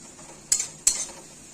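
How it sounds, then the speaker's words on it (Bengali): Two short bright scraping strokes of a spoon stirring spices frying in oil in a pan over a low gas flame, close and quiet with a faint sizzle between them, no talk. "মশলাটা ভেজে নিচ্ছি"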